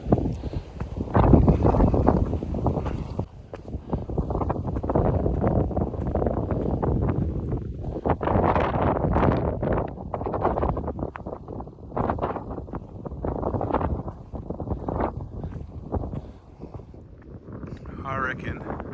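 Strong wind roars steadily across a hiking track of wet granite, the gusts buffeting loudly and without a break for the whole stretch, with someone talking beneath the noise.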